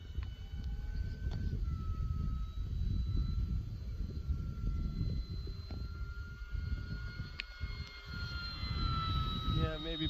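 An RC P-47 Razorback model airplane, a 1.2 m warbird, flying on its maiden flight with a continuous motor drone and whine that shifts pitch, heard outdoors at a moderate distance under wind noise.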